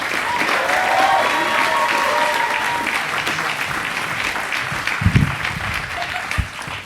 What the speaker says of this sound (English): keep that applause going for your next comic, Trace Holt